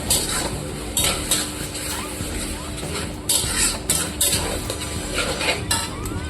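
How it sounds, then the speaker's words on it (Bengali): Ginger-garlic paste with green chilli is stirred and sautéed in a pan, a utensil repeatedly scraping and clinking against the metal in an uneven rhythm over a soft sizzle, close and fairly loud. "আদা রসুনটা খুব সুন্দরভাবে কষিয়ে নেবো"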